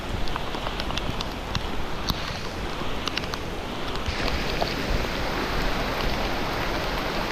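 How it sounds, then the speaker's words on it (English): Rain falling in a Colombian rainforest, a steady dense patter on surfaces with occasional louder drips, continuous and fairly close, without talking. "Little bit of rain, no big deal."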